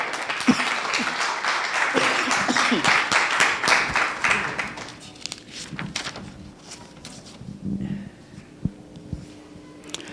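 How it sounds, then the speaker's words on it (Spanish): A church congregation claps during a service, brisk applause in the opening seconds that quickly thins out, leaving scattered claps, shuffling and a voice in a large room. "Dale un aplauso al Señor."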